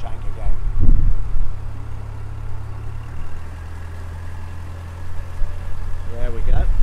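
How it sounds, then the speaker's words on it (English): Narrowboat diesel engine on open water after crossing an aqueduct over the North Circular in London, a steady low throb with the revs rising, heard close and continuous throughout, with brief low voices near the start and end. "It's pushing the revs up now."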